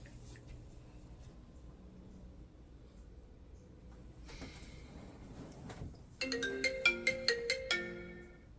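A phone ringtone plays loudly from about six seconds in, a quick run of bright repeated electronic tones over quiet room ambience in a Jamaican home drama, with no talk.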